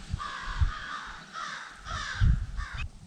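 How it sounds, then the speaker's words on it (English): Crows caw outdoors in a run of harsh, repeated calls, fairly close and clear, with no talking. "God, what is the deal with those crows?"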